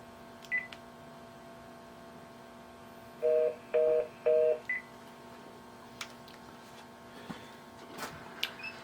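Telephone keypad tones: three short, evenly spaced dialing beeps in quick succession, then a softer blip, set against a steady background hum with scattered faint clicks.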